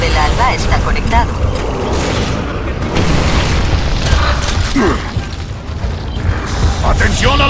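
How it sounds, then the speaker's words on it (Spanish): Heavy booming blasts from the Hammer of Dawn orbital strike in Gears of War Ultimate Edition, rumbling continuously and loud, mixed with mechanical clanks and shouted voices over dense battle noise. "El martillo del alba está conectado"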